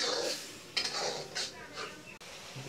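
Spices fry in a pan with a faint sizzle, while metal stirring and scraping clinks sound close by during home cooking. No voices are heard.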